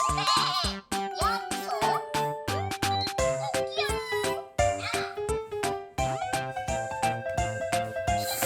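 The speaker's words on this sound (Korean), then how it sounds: "야옹 야옹 야옹 야옹" A Blue Rabbit smart pen toy plays cat meows, a run of loud, close, electronic-sounding mews repeated in quick succession with short gaps between them.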